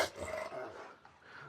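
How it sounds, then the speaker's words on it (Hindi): A Rottweiler growls low and rough at close range in a garden setting, a continuous rumbling snarl that rises and dips over a second and a half, with faint background noise around it. "ये कुछ खतरनाक कुत्ता रॉडवेलर। भाई तौबा, ये जी रॉडवेलर है"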